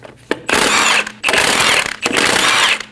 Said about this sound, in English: remove the 5 lug studs.